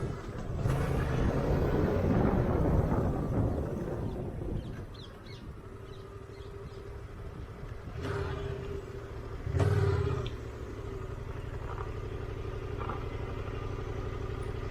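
A car engine rumbles and pulls away during a hill start as the clutch is released, with a steady close drone, a louder surge partway through and faint clatter.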